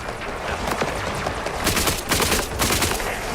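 Rapid, dense gunfire from a weapon in a video game, a steady stream of crackling shots with heavier bursts toward the end.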